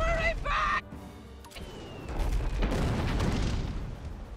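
Cannon fire in the naval video game Abandon Ship lands as booming blasts with rumbling aftermath, after a brief musical jingle at the start.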